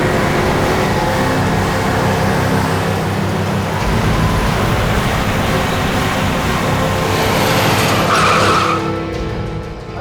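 A car on a dark road at night, with a steady rumbling engine and a broad rough swish that could be tyres skidding to a halt, the noise fading away at the end.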